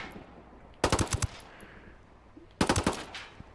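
SMG gunfire in Ghost Recon Wildlands comes as two short, sharp bursts of several rapid shots each, loud and close with a quiet gap between them.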